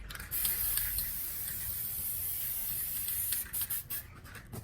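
Aerosol can of black clear sealer sprayed onto cardboard boomerangs: a continuous close hiss lasting several seconds, ending in a few short bursts.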